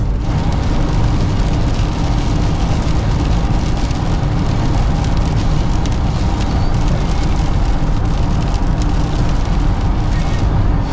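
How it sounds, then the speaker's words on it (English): Heavy rain drums steadily on a VW T4 camper van driving on the M6 motorway in northern England, a loud, dense, unbroken roar of rain and road noise throughout. "This rain is horrendous."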